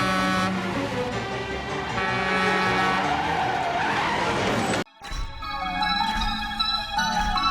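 A car brakes hard with a loud, sustained tire skid that squeals for several seconds, then the sound cuts abruptly to a shorter burst of engine noise and horn toots.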